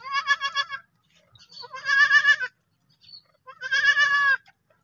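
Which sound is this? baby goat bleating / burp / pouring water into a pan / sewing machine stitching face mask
baby goat bleating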